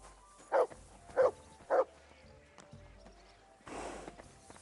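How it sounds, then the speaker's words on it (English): A dog in the video game Kingdom Come: Deliverance II gives three evenly spaced, mid-distance barks over low game ambience. A louder rustling burst follows near the end. "You silly doggy."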